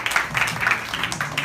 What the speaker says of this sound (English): we're going to have a big round of applause for Victor